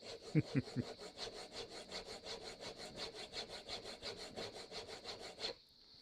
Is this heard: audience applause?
no